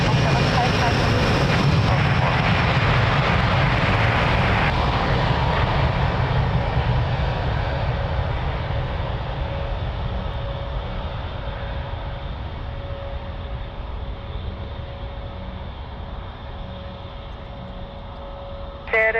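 A fixed-wing airliner takes off from runway 02 at Lisbon Airport, its engine roar loud and broad at first, then slowly fading as it climbs away, with a steady tone holding over the rumble.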